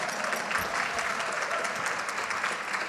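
Audience at a ladies' luncheon and fashion show breaks into steady applause, a dense even clatter of many hands, moderately loud and sustained throughout.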